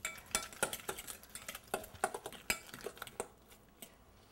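A fork scrapes and clinks steadily against a bowl while an egg is beaten into a polenta burger mixture, a quick close rhythm of metallic taps that slows near the end.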